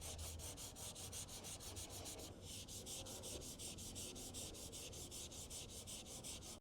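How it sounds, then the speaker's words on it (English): 180 grit sandpaper is rubbed across a car body panel to scuff it before filler, making a fast, even back-and-forth scratching rhythm that continues close and alone. "we're going to use 180 grit just to give it a little bit of a scratch so that filler can stick really good"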